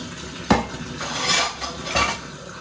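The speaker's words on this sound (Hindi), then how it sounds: "तो ये बर्तन हमने वॉश कर लिए।" Dishes, pots and cutlery being washed in a home kitchen, with a couple of sharp clinks and clatters over a steady running, splashing wash sound, fairly close, with no talking.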